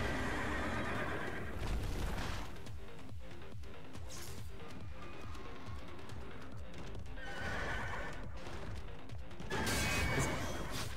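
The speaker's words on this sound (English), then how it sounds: "Is that a horsey?" A horse in the Stellar Blade video game, with busy clip-clop hooves and a neigh or two over a dense, steady game soundscape, with louder bursts near the start and end.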